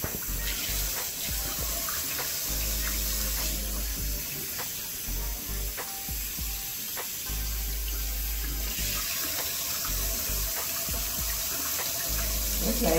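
A tap runs steadily into a sink as soap is rinsed out of 4C-textured hair on wash day, a continuous close splashing rush with small shifts as the flow is interrupted.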